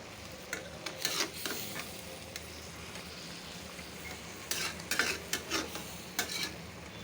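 Large prawns are stirred and fried for prawn bhuna, a continuous soft sizzle broken by repeated scraping strokes of a utensil against the pan, clustered near the start and the end.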